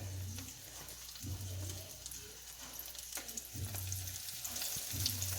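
Crab legs frying in oil give a steady close sizzle and crackle, with occasional stirring or clattering sounds and low hum breaking through, no voices.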